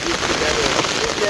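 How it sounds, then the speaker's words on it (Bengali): Steady rain falls in a dense, even patter with no pauses, loud and close throughout. "সেই বৃষ্টি আরে বৃষ্টি"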